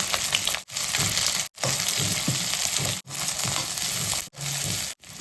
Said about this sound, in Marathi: तेल गरम झालं आहे तर त्याच्यामध्ये हे लॉंग कट केलेले अनियन मी टाकते